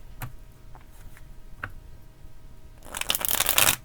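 A deck of tarot cards is shuffled nearby: a few light taps and flicks, then a bright, rapid riffle burst near the end.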